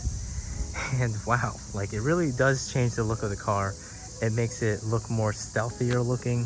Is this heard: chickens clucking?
no